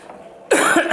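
A single sharp cough from someone who has just drunk a cold drink, loud and close, coming abruptly after a stretch of quiet room tone.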